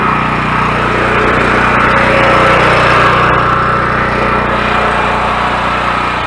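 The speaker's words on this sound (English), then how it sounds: "I got the generator going." A portable generator at home runs steadily alongside an air compressor, a loud continuous engine drone with a rough low-pitched hum that holds even for several seconds, close by with no talk.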